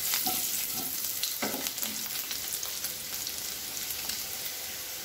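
Baby potatoes fry in hot oil in a pan for dhaba-style cooking, a close, continuous crackling sizzle with scattered pops and an occasional stirring scrape, no voices.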